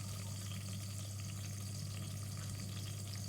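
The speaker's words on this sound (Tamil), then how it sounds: "வெங்காயத்தை ஆட் பண்ணிவிட்டு நம்ம அதை கிளறி விடுறோம்." Onions and curry leaves fry in a pan of hot oil with fenugreek, a steady close sizzle with light stirring scrapes, running evenly throughout with a low hum beneath and no talk.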